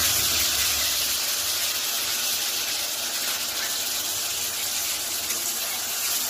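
Onion, garlic and tomato paste hitting hot oil with cumin seeds, a steady loud hiss and sizzle with no break and no talk.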